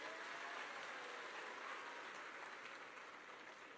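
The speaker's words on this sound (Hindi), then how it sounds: "एक बार जोरदार तालियों से उनका अभिवादन कीजिए" Applause from a crowd at an outdoor public meeting in Jagiroad, Assam, a dense, steady wash of many hands clapping that carries evenly throughout and fades slightly toward the end.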